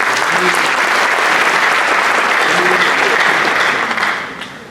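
Audience applause at the NABCO one-year anniversary event for the nation builders, a dense, loud and sustained ovation that fades slightly near the end.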